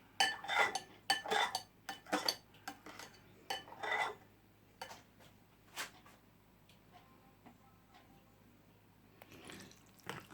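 Small pieces of cut crystal jelly are dropped into a dish along with mango dessert ingredients, giving sharp clinks and taps in quick bursts at first, then thinning to sparse soft knocks over a faint hum.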